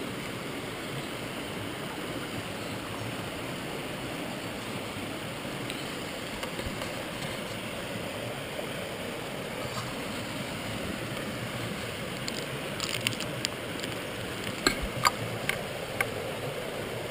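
Mountain river water flowing near a wild camp on the Pen y Fan Horseshoe in the Brecon Beacons, a steady, even rushing hiss heard alone, with a few light clicks and knocks toward the end.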